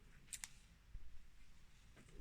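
Scissors trim embroidery thread on a felt Easter egg in a hand-sewing project: two quick, close, crisp snips near the start, then quiet handling noise.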